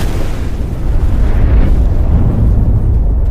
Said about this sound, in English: From another angle, the explosion is clearly visible.